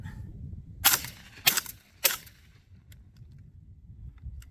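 Three suppressed shotgun blasts from a short-barreled Fostech Origin 12 fitted with a SilencerCO Salvo suppressor, firing Top Gun shells outdoors, come in quick succession with sharp loud reports, each followed by a brief tail, then quieter background.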